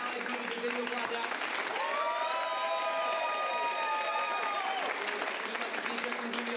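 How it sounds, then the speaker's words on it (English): Improv comedy theater audience applauding to vote for a scene, steady crowd clapping throughout, with a voice holding a sung or sustained tone over the middle part. "If you'd like to see Hallie's movie continue, applaud now."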